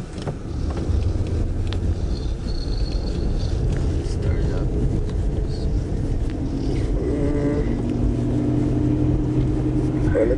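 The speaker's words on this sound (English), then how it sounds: "let's just do a quick drive to test it" A car on a short test drive, its engine and road noise a constant loud rumble throughout, with people talking over it.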